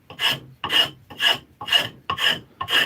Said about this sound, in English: I'll come back and I'll kind of smooth it a little bit with the rasp